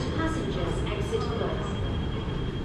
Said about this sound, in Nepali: ल है हाम्रो ट्रेन गयो मेरो साथी आएन